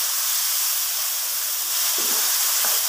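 Masala with turmeric roasting in a pan for a potato and aubergine curry, giving a steady broadband hiss throughout, with no talking.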